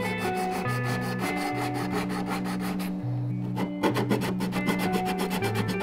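Cured epoxy on a quarter-scale wooden boat build being sanded by hand with 80 grit sandpaper, a steady close rhythmic rasping of back-and-forth strokes with a brief pause partway.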